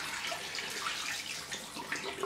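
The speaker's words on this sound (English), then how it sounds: "I need some more hot water in that." Hot water pours from a tap into a basin for shaving, a steady close hiss of running water with no voices.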